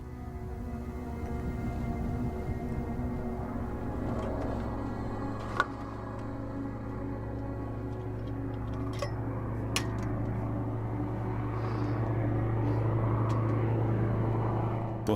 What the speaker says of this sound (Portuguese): Então, eu ouvi o avião.